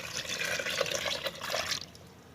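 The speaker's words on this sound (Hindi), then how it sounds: "ये देखें, 4 गिलास पानी इसके अंदर हमने ऐड कर देना है।" Glasses of water poured into a pressure cooker holding a spice mixture, a steady close splashing gush that runs for almost two seconds and then stops abruptly.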